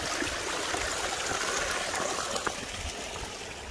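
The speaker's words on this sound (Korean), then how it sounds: "물소리 좋습니다." A small mountain stream on Geumjeongsan in Busan flows beside a hiking path after rain, a steady close babbling and trickling rush of water without a break.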